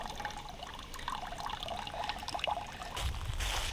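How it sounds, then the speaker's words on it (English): Water from an intake pouring steadily into a bucket outdoors, a faint continuous trickling splash with a brief louder rush near the end. "while we're waiting on our bucket to fill up with water"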